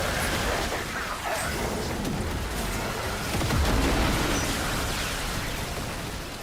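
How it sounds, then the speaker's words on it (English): Loud, sustained explosion rumble in a video game, a broad roaring blast that holds for several seconds before slowly easing off. "Would you like an explosion?"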